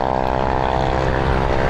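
A propeller aircraft passes low overhead near Heathrow, its loud, steady droning engine filling the whole moment without a break.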